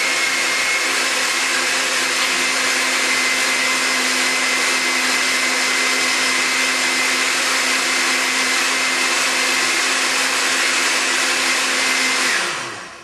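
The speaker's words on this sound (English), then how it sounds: "And of course I know how to use this blender." A blender runs continuously while mixing a Herbalife banana shake, a loud steady whirring roar that holds for about twelve seconds and then cuts off, with no talking.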